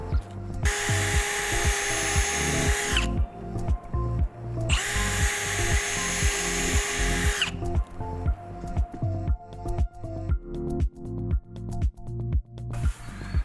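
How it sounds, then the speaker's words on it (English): Power drill pre-drilling holes into a deck rim joist, two long high whining runs with a steady rhythmic pulse beneath, followed by a string of short repeated bursts, loud and close. "Set that aside, and we're going to pre-drill."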